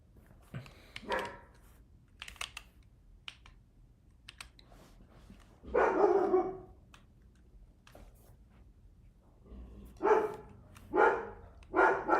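Dogs bark in the background in short clustered bursts, several sharp barks at a time separated by quiet gaps, moderately loud, mixed with intermittent clicking of keyboard typing nearby.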